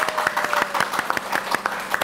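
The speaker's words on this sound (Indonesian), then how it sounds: "Ini nggak seru kalau nggak pakai tepuk tangan dari para hadirin di studio." Studio audience applause during a halal-lifestyle podcast taping, a short burst of many hands clapping at moderate loudness, fairly close, with no voices over it.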